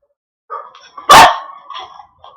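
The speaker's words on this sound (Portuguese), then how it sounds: "Ih, desculpa, meu cachorro latiu." A pet dog indoors in a bedroom lets out a single loud, close bark, framed by a few softer whimpering yips before and after, with no talking.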